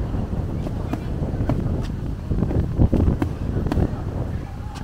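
Strong wind off the sea buffets the microphone in a steady, rumbling roar with occasional louder gusts, carrying on for the whole stretch without pause.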